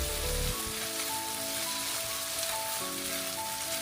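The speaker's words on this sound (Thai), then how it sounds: "ผัดผสมให้เข้ากันดีอีกรอบหนึ่งค่ะ" Sizzling of chicken breast being stir-fried with white sesame seeds in a pan, a steady dense crackle continuing throughout with no talk.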